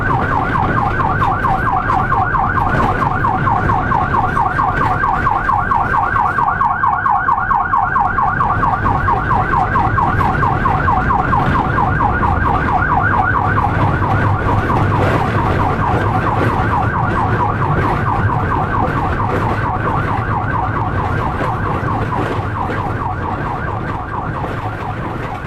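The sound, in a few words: SAMU ambulance siren while leaving to answer a call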